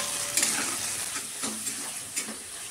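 Rice, peas, bay leaf and ground turmeric, chili and cumin sautéing in hot oil in a pan for a Bengali fish-head rice dish, a continuous close sizzle broken by a few scraping stirs, with no voice.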